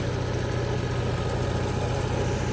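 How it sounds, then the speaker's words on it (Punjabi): A New Holland 3630 tractor engine idling at close range, a steady low rumbling drone with constant vibration and no other sounds. "ਆਹ ਟਰੈਕਟਰ ਆ ਨਿਊ ਹਾਲੈਂਡ"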